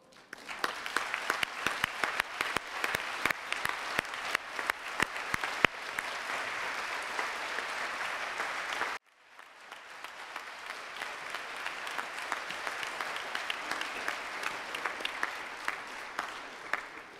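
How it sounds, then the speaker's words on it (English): Warm, sustained audience applause at a closing ceremony hall, many hands clapping steadily and fairly faintly, with a sharp cut partway through before the clapping resumes. "join me to give her a warm round of applause"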